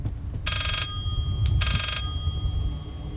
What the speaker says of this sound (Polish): Słyszę, że dzwoni, ale nie widzę telefonu.